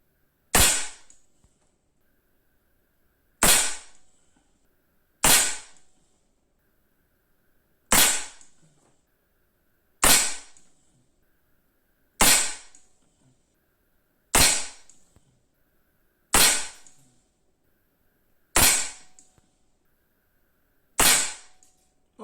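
Ten sharp air pistol shots from an Artémis CP2 firing RWS Meisterkugeln pellets at a 10 m range, each a crisp crack with a short decaying tail, spaced about two seconds apart with quiet between them.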